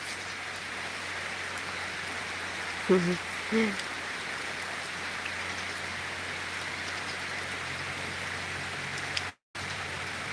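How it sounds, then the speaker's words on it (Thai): Steady broadband hiss of rain falling throughout, with a couple of brief faint vocal sounds early on and a short dropout near the end. "แต่ฝนก็ตกนะคะ"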